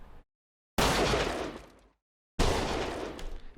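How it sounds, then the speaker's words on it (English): Two layered gunshot sound effects for a car chase scene fire one after another, each a sharp close blast with a short decaying tail, separated by silence. "layer it with this higher frequency one"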